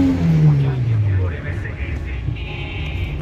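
A Pride car engine revs briefly as the gas is pressed, a short rising-then-falling drone close in the cabin, with people talking over it.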